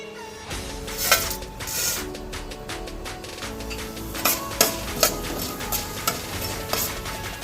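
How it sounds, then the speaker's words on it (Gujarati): Coriander, cumin and fenugreek seeds crackle in hot oil for a Gujarati kadhi tempering, joined by curry leaves and dried red chillies: a steady close sizzle scattered with sharp pops, with a few scrapes of stirring in the pan. "તો ધાણા જીરું અને મેથી ક્રેક થઈ ગયું છે"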